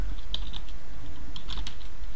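Quick, uneven keystrokes on a computer keyboard while entering a command in a Linux terminal, with short bursts of clicks separated by brief pauses, close and fairly clear over a low background hum.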